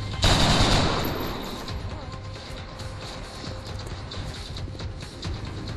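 Rapid bursts of automatic gunfire from soldiers in the video game XCOM, loud at first and then easing into a steady rattling clatter of shots that carries on to the end.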